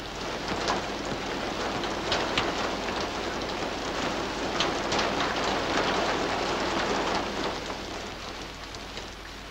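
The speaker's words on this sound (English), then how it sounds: "which the rain may carry into water puddles" Steady heavy rain patters on surfaces, a dense continuous hiss with scattered louder drops and no voices.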